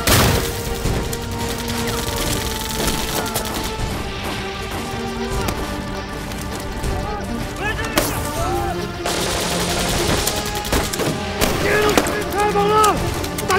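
Machine guns firing during a staged battle between guerrillas and Japanese troops, with dense, loud bursts of gunfire and crashing impacts, and voices shouting over the din throughout.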